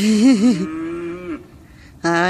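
Cows moo loudly nearby in a field beside sprouting wheat: one wavering, drawn-out low call, a pause, then another moo starts abruptly.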